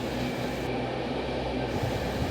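Train rolling along rails with a steady, dense rumble and clatter, loud and continuous throughout with no voices.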